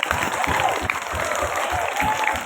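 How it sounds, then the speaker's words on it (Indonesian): A class of twelfth-grade students gives loud, sustained applause before a quiz, with dense overlapping clapping close by and some voices mixed in. "kita berikan dulu tepuk tangan paling meriah"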